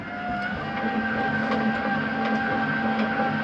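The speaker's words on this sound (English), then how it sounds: "Bring up our stabilizing jacks" Stabilizing jacks on a 2017 Open Range Light 268TS travel trailer retracting, a steady electric motor whine with a constant hum, close and unbroken for the whole stretch.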